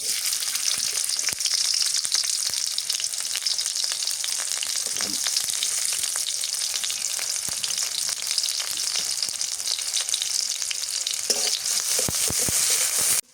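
Onions frying in oil in a pan for a Bangladeshi home-style fish curry, a steady bright sizzle running close and loud throughout with occasional scrapes of stirring.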